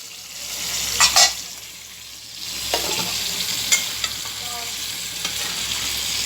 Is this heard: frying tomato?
yes